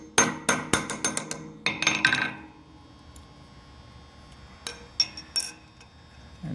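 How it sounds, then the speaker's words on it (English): A hammer taps aluminum to dimple it for rivets during aircraft windshield construction on a Flitzer biplane: a quick series of sharp metallic strikes, then a few isolated clinks after a quiet pause. "aluminum gets dimpled by the aluminum rivet"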